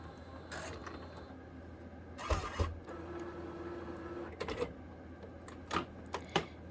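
Epson L1800 printer powering on, with quiet whirring and scattered clicks and clacks as the print head carriage shifts, a few sharper mechanical knocks near the end, close and faint overall.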